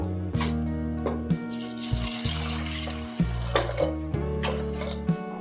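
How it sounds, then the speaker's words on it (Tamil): Water pours into a pot of toor dal and moong dal for cooking a keerai kadaiyal, a close splashing stream running over a steady layered humming tone, with occasional soft knocks. "இப்போ இந்த பருப்பு வேறதுக்கு தேவையான தண்ணி சேர்த்துருவோம்"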